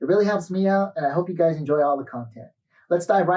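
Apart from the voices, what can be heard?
None of the usual background noises is heard.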